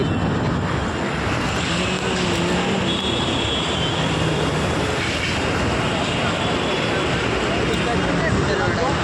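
A loud, steady roar of a train rumbling across a railway bridge near Howrah, unbroken from start to finish.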